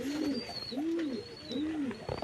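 Soft, low cooing from pigeons repeats three times at an even pace, with a thin high whistle drifting between the coos.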